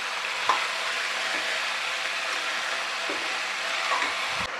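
Chickpeas and green beans fry in oil for a Punjabi vegetable dish, giving a continuous, even sizzle close up with a few soft knocks from stirring.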